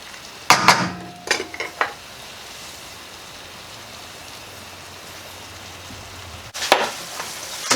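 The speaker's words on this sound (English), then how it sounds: "Deglaze the bottom of the pan. I hit it with about a half a cup of that cognac" Cognac hits a hot pan to deglaze the fond for beef stroganoff: sharp bursts of sizzling and scraping at the start, a quieter crackling simmer, then another loud burst of sizzle near the end.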